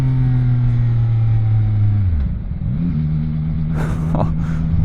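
A CFMOTO 675NK motorcycle on its standard exhaust revs hard at full throttle, a loud steady engine drone that drops sharply around midway, then climbs back and holds, with brief wind gusts near the end.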